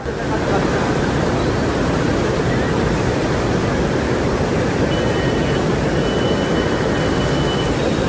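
Loud, constant roar of fast-moving floodwater rushing down the Godavari River in Nashik, a dense unbroken wash of noise with no pauses.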